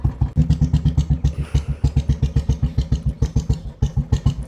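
A motorcycle engine runs close by with a steady, rhythmic thumping pulse throughout, with no talk.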